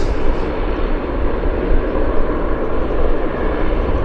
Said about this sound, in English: The United's going to Houston, flight number 1528. So it's our next arrival.